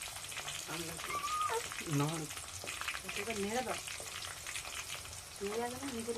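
Onions dropped into hot oil in a kadai with durva grass to make an Ayurvedic herbal hair oil: a steady, fairly quiet crackling sizzle runs throughout, with faint voice-like tones drifting over it.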